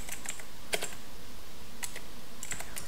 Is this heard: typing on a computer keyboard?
yes